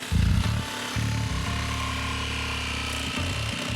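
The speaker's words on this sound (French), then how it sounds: "La scie sabre sur batterie coupe jusqu'à 3 cm par minute" A cordless reciprocating saw runs close by on a house-raising construction job, its motor droning steadily through a cut, with brief pauses and restarts.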